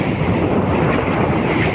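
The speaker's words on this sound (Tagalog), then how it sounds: "So hindi na tumigil ang hangin" Strong wind at sea blows hard across a boat, a dense and loud roaring rush of wind buffeting the microphone, steady throughout with no voices.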